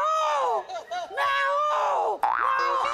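A man on a comedy stage show imitates a peacock call with loud, drawn-out wailing cries that rise and fall, repeated several times with brief breaks between them.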